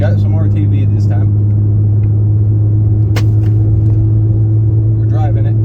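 Interior drone of a BMW E90 drift build with a welded differential, driving on the road: a loud steady low engine hum with a constant tonal rumble and a brief sharp click midway, no one speaking.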